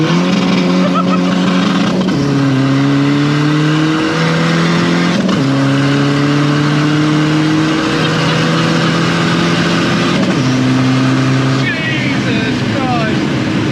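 A 500bhp nitrous-fed Seat Ibiza FR diesel, a front-wheel-drive hatchback, accelerates hard with wheelspin, its loud engine drone climbing in pitch through the gears with sharp drops at each shift, heard close from inside with people talking over it.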